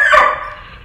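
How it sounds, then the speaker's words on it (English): A single dog bark, close and loud, with a short ringing tail that fades quickly. "Grayson, don't you start barking."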